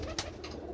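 Pigeons coo in a loft full of many fancy breeds, a single soft, low coo heard close and brief against a faint hum.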